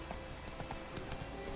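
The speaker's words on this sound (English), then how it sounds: "Come on, horsey. Where you at? Where's the horse?" A horse galloping in The Witcher 3: Wild Hunt, with steady rhythmic clip-clop hoofbeats running throughout against a dense game background.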